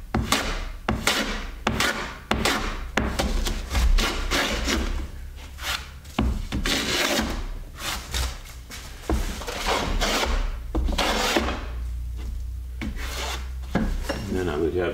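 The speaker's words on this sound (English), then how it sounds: "I'd check for wind and then plane straight through, remove the edge out into the middle" Hand plane shaving a wooden board to flatten it, cutting from one side to avoid blowing out the end: repeated rasping strokes in a steady rhythm, close and loud, with no talk.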